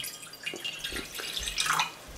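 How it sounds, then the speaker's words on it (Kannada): Water is poured into a cooking pot while Malabar spinach sambar is being made, giving a soft, close splashing trickle for about two seconds with no talk. "ಅರ್ಧ ಕಪ್ನಷ್ಟು ನೀರು ಹಾಕಿಬಿಟ್ಟು ಸ್ವಲ್ಪ ಕುದಿಯೋಕ್ಕಿಡಿ"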